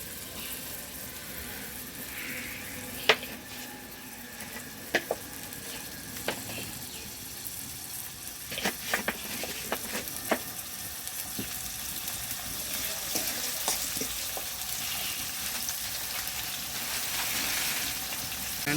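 Food sizzles steadily in a pan of hot oil as it browns, a constant crackling hiss broken by scattered sharp pops and small utensil clicks.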